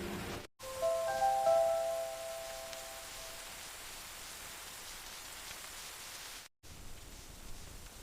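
Steady rain falling in a village setting, a soft continuous hiss of drops with faint tones near the start, cut by two brief silent gaps.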